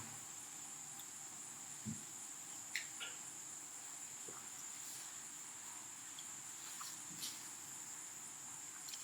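Insects chirping at night, a steady high continuous trill holding throughout at low level, with a few soft knocks and rustles nearby.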